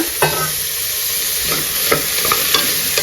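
Chopped sambar cucumber sizzles in a hot pan, loud and close, while a spoon stirs and scrapes it with soft rhythmic strokes over a continuous frying hiss.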